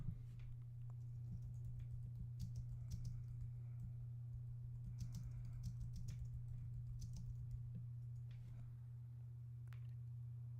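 Typing on a computer keyboard, soft irregular key clicks in quick runs over a steady low electrical hum, close but quiet.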